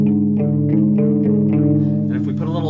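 Tritone interval played on a keyboard with added effects, a sustained dissonant chord tone that wavers with a chorus-like shimmer under a steady stream of pulsing accents, heard alone and fairly loud.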